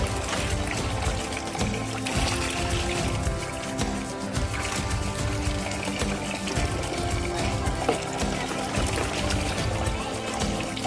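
Water pours steadily from a pipe into a bucket beside a water tank used for raising fish, a continuous splashing, gurgling flow heard close up with faint voices in the background.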